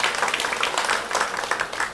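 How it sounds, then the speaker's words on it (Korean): A church congregation claps during a Korean worship service, a quick, close burst of many hands with individual claps standing out in an uneven rhythm. "영광의 박수 올려드리겠습니다"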